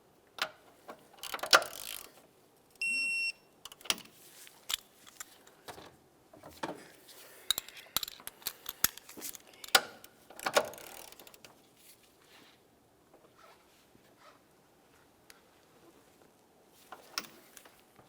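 A ratchet wrench turns a bolt on a 2011-2018 Volkswagen Jetta during a water pump and timing belt job, giving close, quiet bursts of rapid clicking and metallic ratcheting with pauses between strokes.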